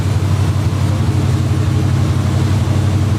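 A 1986 Chevrolet Monte Carlo SS idles steadily with a mild exhaust, giving a constant low rumble close by with no talking.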